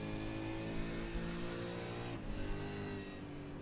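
Race car engine in iRacing at Bathurst, a steady high droning rev held on throttle with a brief dip midway, loud and continuous without talk.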